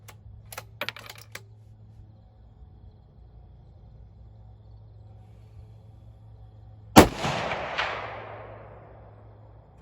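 A rifle shot fired with 5.56mm or .308 ammunition strikes a Caldwell 8-inch AR500 steel gong outdoors, giving one sharp, loud crack that rings out in a metallic decay, after a few faint clicks earlier.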